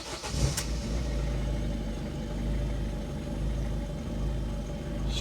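Ford Fiesta mk6 1.6 TDCi diesel engine idles steadily after new glow plugs, a close, continuous low rumble with a brief clatter at the start and no talking.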